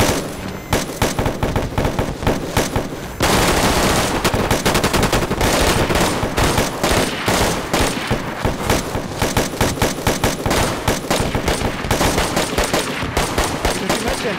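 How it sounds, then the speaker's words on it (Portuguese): Rapid bursts of automatic gunfire from the survival video game DayZ, dense and loud throughout, with rattling strings of shots that intensify into near-continuous firing partway through. "Cadê a rajada de bala agora pra cima?"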